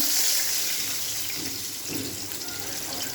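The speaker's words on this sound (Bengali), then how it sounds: "জল দিয়ে দিচ্ছি" Water pours steadily and fairly loudly into a pan of fried green banana, a continuous rushing splash that tapers slightly toward the end.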